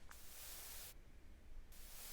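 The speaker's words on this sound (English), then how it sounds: "Last thing I did was just add some white noise." White noise added to a synth lead: bright, steady static in two bursts separated by a brief dip, hissing evenly across the whole range with no voice present.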